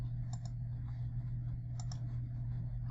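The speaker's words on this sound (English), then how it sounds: "I opened it by clicking on these collapsible buttons." Computer mouse clicking on collapsible buttons in an e-text page: two quick pairs of faint, crisp clicks about a second and a half apart, over a steady low hum.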